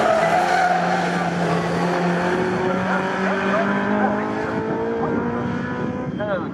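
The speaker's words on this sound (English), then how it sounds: "It's just the way it slides that corner." Rear-wheel-drive classic race car, a Cortina in the CSCC Classic K series, slides through a corner at Snetterton with sustained tire squeal and engine roar, close and loud, with other engine tones and voices underneath.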